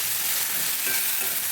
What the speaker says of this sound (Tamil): கொஞ்சம் வதக்கி வச்சுக்கலாம்.